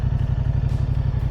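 A 2023 Moto Guzzi motorcycle engine idling at a red light, a close, steady low throbbing pulse with an even, lumpy rhythm and no talk over it.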